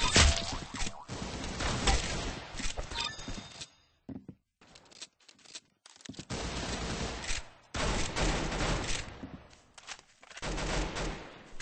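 Rapid bursts of automatic gunfire from the Roblox shooter Arsenal, loud and dense in stretches with short gaps between volleys, no talk over it.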